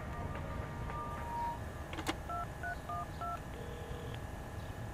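A telephone keypad is dialed, giving a quick series of short, clear beeping tones of varying pitch over a faint steady background hum.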